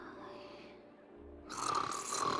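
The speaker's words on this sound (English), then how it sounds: "Stop the snoring!" Snoring in a Honkai: Star Rail story-ending reaction, a low rumbling breath that swells into a louder, harsher snore in the second half, fairly close and mixed with faint background sound.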